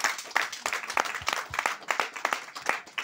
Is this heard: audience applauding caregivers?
yes